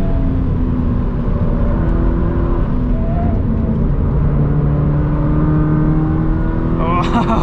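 2020 Toyota 86 Hakone Edition engine revving under acceleration from inside the car, rising in pitch through gears with a shift partway, while a person talks over it.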